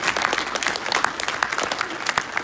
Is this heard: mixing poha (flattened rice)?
no